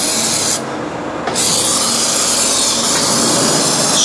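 A continuous hiss of aerosol lubricant sprayed onto brackets on a Fiat Ducato motorhome, loud and close, with a brief break near the start before the steady spray resumes.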